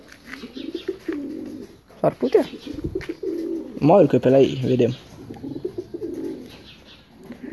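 Pigeons coo in a loft in a low, rolling, throaty warble, close and fairly loud, with other birds and wing shuffling around them and someone speaking briefly over part of it.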